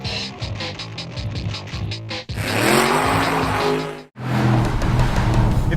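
A Chevrolet Camaro SS with a V8 engine revs and accelerates hard, a loud roaring drone with a tire squeal, rising and falling in two bursts separated by a sharp gap.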